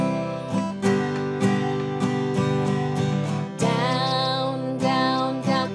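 Acoustic guitar strumming a chord pattern in a down-down-down-up rhythm, ringing bright chords with sharp strum attacks and a chord change partway through, close and alone without talk.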